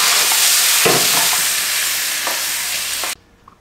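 Pork and onion with sauce stir-fried in a pan give a loud, steady sizzle broken by brief scraping stirs. The frying cuts off abruptly near the end, with no talk.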